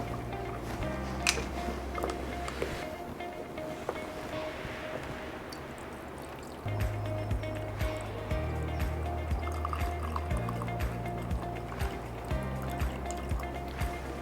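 Water poured into a soil-filled column in a classroom bacteria experiment, a quiet intermittent trickle and fill that stops and resumes, faint and close with low background hum.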